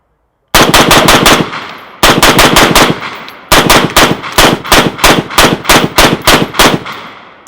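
Rapid rifle gunshots from a Del-Ton Scout rifle, very loud and close, fired in three quick strings of fast successive cracks with ringing echo between shots.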